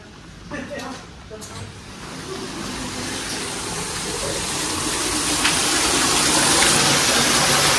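Water gushes steadily at Skansen zoo in Stockholm, a broadband rushing sound that swells louder over several seconds, with people talking nearby under it.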